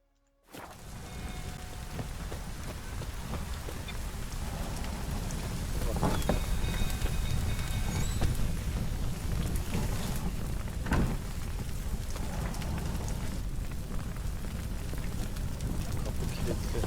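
Steady heavy rain falls in The Witcher 3: Wild Hunt, a dense hiss that runs throughout, with occasional thunder cracks and rumbles breaking through. Soft voices sit faintly underneath.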